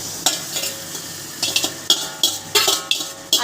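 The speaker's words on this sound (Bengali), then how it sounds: "এইবার আমি আমার ম্যারিনেট করা চিকেনগুলো এর মধ্যে ঢেলে দেব" Marinated chicken goes into hot oil in a pan and is stirred in brief bursts, with sharp sizzling flare-ups and the clink of a spoon against the pan recurring every half second or so. No voices.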